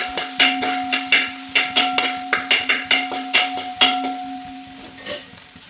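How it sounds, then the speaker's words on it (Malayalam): Crushed ginger and garlic sautéing in a pan for a Kerala-style beef curry, with a steady sizzle under rhythmic spoon strokes scraping and tapping the pan, close and moderately loud with no talking. "നമ്മൾ ചതച്ച് വെച്ചിരിക്കുന്ന ഇഞ്ചി ആദ്യം തന്നെ ഇട്ടിട്ട് ഒരു ബ്രൗൺ കളറാവുന്ന വരെ നല്ലോണം വഴറ്റിയെടുക്കുക"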